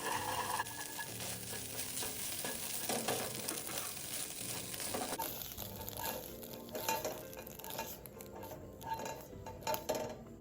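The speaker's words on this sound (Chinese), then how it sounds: "油热后，再将鸡蛋直接倒入。 用双筷子拌炒，炒匀后离火备用。" Beaten egg stir-fried in hot oil with a pair of chopsticks, a steady close sizzle and frying crackle running throughout with light scraping and clinks of utensils against the pan, no voices.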